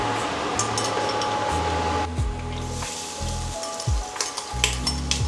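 Garlic sizzles and crackles in hot oil in a pan while chicken adobo is being cooked, a steady close frying hiss with a few stirring scrapes and no talking.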